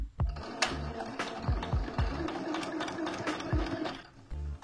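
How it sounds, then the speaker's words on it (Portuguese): A sewing machine stitches a seam at the needle, running in a steady close mechanical whir with small irregular knocks and clicks, starting and pausing briefly near the end. "Eu vou fazer uma costura."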